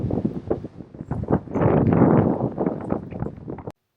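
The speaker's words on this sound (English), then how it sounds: "It's very, very windy." Strong outdoor wind gusting straight into a microphone, producing rough, booming rumbles that swell and fade in uneven bursts before cutting off abruptly.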